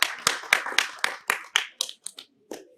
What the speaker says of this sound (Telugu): ఒకసారి గట్టిగా క్లాప్స్ కొట్టు